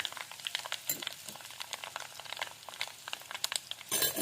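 Mustard seeds, fenugreek and asafoetida crackle and sizzle in hot oil in a kitchen pan for a pickle of sun-wilted bilimbi, a steady close spitting hiss with scattered pops and a louder burst at the end.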